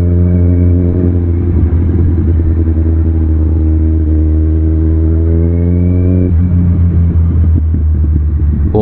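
A Kawasaki Z1000 motorcycle rides along a road, its engine droning steadily with a deep exhaust rumble, revs rising and dropping, and a few crackling exhaust pops near the end, loud and close.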